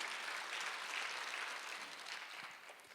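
Church congregation clapping together during a Sunday worship service, a steady dense wash of applause from many hands filling the whole stretch, easing slightly toward the end.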